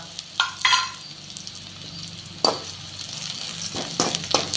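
Onions fry in a pan with dried curry leaves and red chillies, a steady close sizzle broken by several scraping stirs of a spatula.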